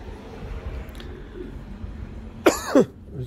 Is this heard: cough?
yes